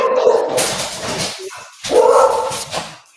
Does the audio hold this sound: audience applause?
no